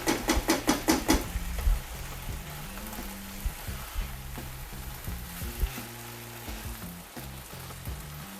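Seafood risotto frying in a pan as fish stock and fish are stirred through the rice, opening with a few sharp clatters and then a close, continuous sizzle and bubbling with low musical notes underneath.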